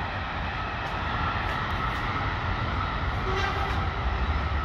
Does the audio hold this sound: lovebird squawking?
no